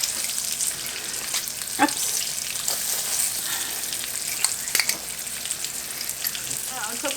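Chorizo and freshly pressed garlic fry in a pan with a steady, close sizzle, punctuated by scraping stirs and clinks of a utensil; a voice briefly speaks.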